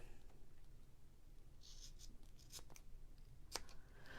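Trimming the border of watercolor paper with a stamp, quiet sparse snips and scratchy cuts over a soft background hiss, faint and close.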